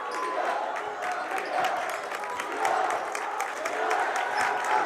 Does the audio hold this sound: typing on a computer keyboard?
no